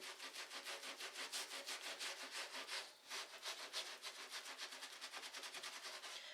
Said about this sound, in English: I'm just going to lightly scrub.